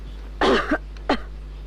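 A young woman coughs twice, a harsh double cough followed by a single shorter one, close and clear against a quiet room with a faint steady hum underneath.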